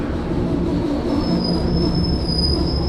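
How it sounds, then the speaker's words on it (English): A southbound commuter train rumbles steadily past up close into a station, wheels grinding on the rails with a thin, high squeal building over the continuous roar. "southbound train"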